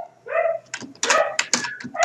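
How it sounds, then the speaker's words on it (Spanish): Neighbour's dogs barking in a rapid series of sharp yips and barks, fairly close and loud, with some whimpering tones mixed in and no speech over them. "mi vecino ya empezó a hacer ladrar a sus perros"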